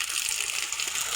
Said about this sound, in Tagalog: Update sa shower.